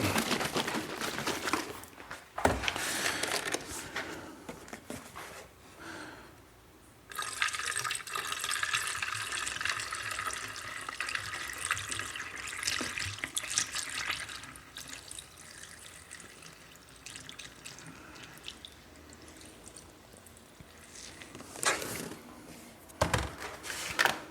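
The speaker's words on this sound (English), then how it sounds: "So let's fill up our bead maker bottle here." Tap water rushing into a bead maker bottle, a steady hissing flow that pauses briefly partway through, then resumes and ends with a couple of sharp knocks.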